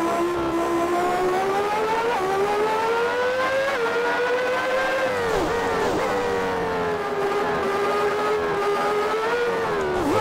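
A racing car engine in the Grand Prix 2 video game set in the 1990 season drones steadily and loud throughout, its pitch rising and dipping with gear changes and throttle, with no talk over it.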